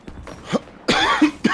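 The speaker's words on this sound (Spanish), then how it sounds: "Uy, que tos." Several harsh coughs come in a quick burst, loud and close, with short gaps between them.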